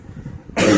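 One person coughs at close range in a single loud, harsh burst that comes at the end after a quieter moment.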